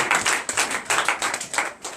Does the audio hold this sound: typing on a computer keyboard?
no